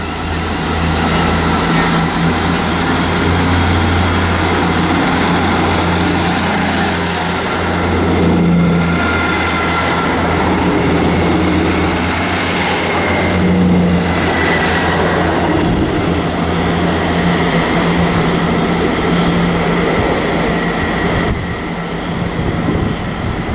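A Scotrail Class 170 diesel multiple unit rolls into Haymarket station in Edinburgh, a loud, sustained rumble and hum of engines and wheels that swells and eases slightly, steady throughout with no voices.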